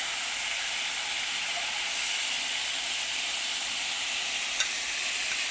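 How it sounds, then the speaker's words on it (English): Veal cutlets steaming and sizzling in a hot pan, a steady broad hiss with a brief louder surge partway through and a small click near the end, with no talking. "I'm going to give a little bit of sort of steam action on these."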